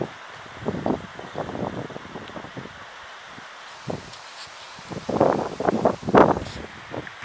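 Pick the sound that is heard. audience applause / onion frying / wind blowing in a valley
wind blowing in a valley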